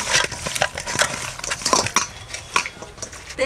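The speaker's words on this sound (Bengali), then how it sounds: "মাছটা এখন আমি মেখে নেব।" Fish being mixed by hand with salt and turmeric in a bowl, a close run of wet squelches, rubbing and light clinks against the dish, busy and steady for a few seconds.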